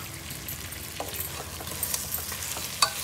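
Tomatoes go into a frying pan with a constant sizzle, overlaid by several soft stirring knocks and a sharper clink toward the end, with no one speaking.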